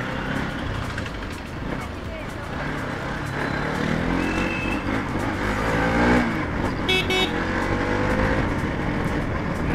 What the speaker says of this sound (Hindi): भाई साहब ये ट्रैफिक का मजा